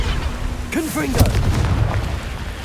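A Confringo blasting spell explodes in Hogwarts Legacy on PS5 with a short, deep boom and crackling burst close by, while a voice is heard around it.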